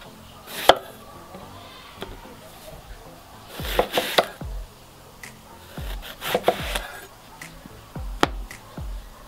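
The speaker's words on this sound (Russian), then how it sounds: "Первым делом нарезаем лук." A knife chops onion on a board in short bursts of sharp taps, a few quick strokes at a time with pauses between, close by.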